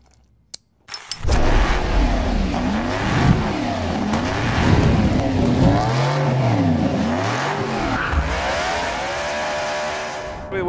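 A BRM 1.5-litre V16 Formula One car engine cranks briefly, then roars to life and revs loudly with rising and falling pitch, running close by throughout.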